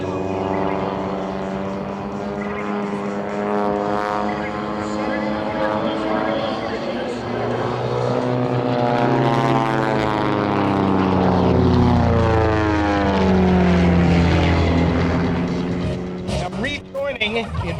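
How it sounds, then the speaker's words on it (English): Propeller airplanes flying in formation at an airshow at NAS Key West, a loud continuous engine drone with shifting pitch as the aircraft pass and turn, steady throughout with a brief dip near the end. "I'll tell you more about the formation flying when they get hooked up again and they reconnect."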